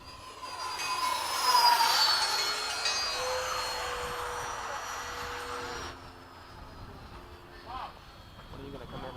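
A Freewing 90mm F/A-18C RC jet comes in to land, its ducted-fan whine sweeping and fading as it passes, with voices talking nearby and a sharper drop in the noise partway through.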